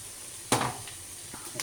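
Cut tomatoes dropped into a hot pan for a bitter gourd gravy, a sudden burst of sizzling that fades into a softer fry, with a faint stir or clink near the end.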